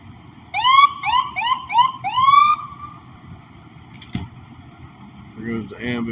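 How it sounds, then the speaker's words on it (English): An emergency siren on a night road near a two-car accident at railroad tracks in Auburndale wails in quick repeated rising sweeps, loud and close, then cuts off, followed by a sharp knock and faint voices. "There goes the ambulance."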